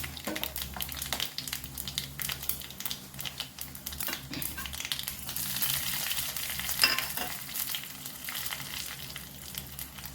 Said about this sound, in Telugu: ఆవాలు మినప్పప్పు శనగపప్పు కరివేపాకు వేసుకున్నాము